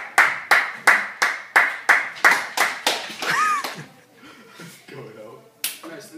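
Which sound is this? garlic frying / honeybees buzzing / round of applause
round of applause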